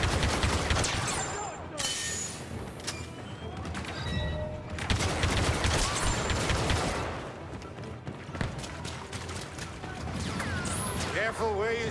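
Blaster gunfire in Star Wars Battlefront II on Crait's abandoned Rebel outpost: rapid, loud bursts of energy-weapon shots and crashing impacts, near and continuous, with brief voices mixed in.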